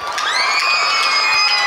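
A large audience at the 1st Vasilika Youth Festival of 2022 cheers and shouts loudly and steadily, with high whoops and whistle-like cries riding over a dense wall of crowd noise.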